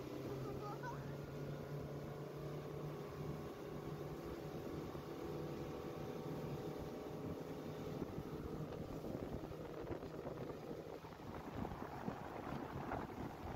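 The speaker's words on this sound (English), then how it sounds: "Here we go full throttle." A homemade, scratch-built boat's motor run at full throttle, a steady droning hum with wind rushing over the microphone and water noise, loud and continuous throughout with no talk.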